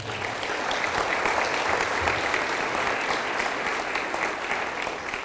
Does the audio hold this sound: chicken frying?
no